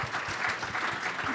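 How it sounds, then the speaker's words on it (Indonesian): Brief burst of audience clapping at a church family retreat, a dense patter of many hands heard close, with no speech over it. "Tepuk tangan yang meriah begitu."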